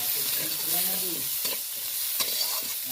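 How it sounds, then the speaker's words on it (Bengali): Cut potatoes are fried and stirred with spices in a pan, producing a continuous close sizzle with a couple of distinct spatula scrapes against the metal partway through. "দিয়ে আমি এটাকে ভালো করে কষিয়ে নেবো মানে আলুটাও ভাজা হয়ে যাবে আর মশলাটাও কষানো হয়ে যাবে"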